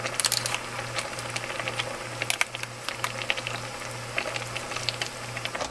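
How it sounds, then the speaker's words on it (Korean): Kimchi stew with tofu, made with anchovy broth and no meat, boils in a pot, giving a steady bubbling patter of many small pops over a pulsing low hum, fairly quiet and close. "이렇게 끓이시면 아주 깔끔한 김치찌개가 완성됩니다."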